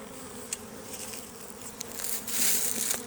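Honey bees buzz steadily around an open beehive during an inspection, a soft continuous drone close by with a few brief louder passes of individual bees and no talking.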